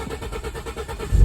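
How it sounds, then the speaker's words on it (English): A Ford Mustang engine cranks in a quick rhythmic churn of starter pulses, then begins to catch with a louder low rumble at the end, heard close with no talking. "She really wanted to crank that time."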